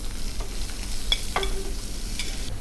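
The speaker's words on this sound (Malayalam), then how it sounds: "ഇനി ഇതിലേക്ക് സവാള സവാള അരിഞ്ഞു വെച്ചിരിക്കുന്ന സവാള ഇടുകയാണ്" Sliced onions go into a hot pan to sauté, a soft steady sizzle under a few clinks and scrapes of a spoon against the pan, with no voices.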